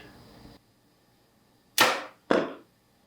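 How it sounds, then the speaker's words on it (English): An arrow tipped with a Beast mechanical broadhead is shot at a red balloon 40 yards away, giving a sharp release snap followed by a loud burst as the balloon pops, then quiet. "Balloon popped."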